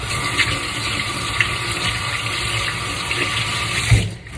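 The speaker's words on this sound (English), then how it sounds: "Then I'll add the water." Water runs and splashes steadily nearby, a continuous rushing pour that stops abruptly near the end.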